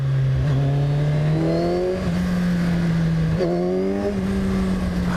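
Loud, close engine of a 2014 Kawasaki Z1000 motorcycle pulling hard, its pitch rising through the gears with two short shifts, over constant wind noise.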